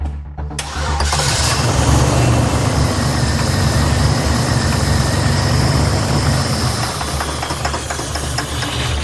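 A Chevrolet S10 engine cranks and catches, then runs loudly and steadily with a rough, rhythmic engine knock beneath the roar, close by in a garage.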